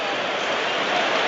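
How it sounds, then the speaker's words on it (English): Torrential rain pouring down at Newcastle United's football stadium during a Premier League match against Arsenal, a dense, loud, continuous hiss with no break. "And the rain is now absolutely"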